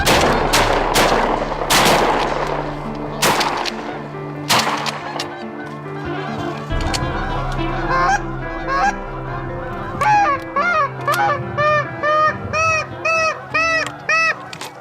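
Several sharp gunshots ring out early, then a flock of geese honks repeatedly in a rhythmic chorus that grows steadier and clearer toward the end.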